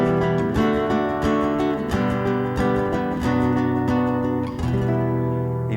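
Chords strummed on an Esteban classical guitar, with repeated ringing strokes that shift between chord shapes, played close and full with no voice.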